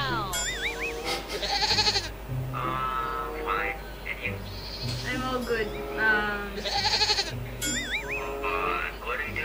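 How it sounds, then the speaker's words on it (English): A song full of goat bleats plays loudly and continuously, with wavering bleating calls repeating over the music while people talk over it. "The goat song threw me off."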